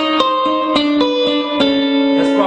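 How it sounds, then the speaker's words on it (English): Blues guitar turnaround lick, a quick run of clean plucked notes in a steady rhythm, close and clear with no other sounds. "That's probably the most common turnaround sound that you hear."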